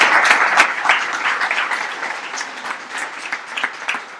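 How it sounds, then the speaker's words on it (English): Round of applause from a small online audience at a tech event, dense steady clapping that starts full and gradually thins and fades over a few seconds, with no talk over it. "We have a round of applause for William."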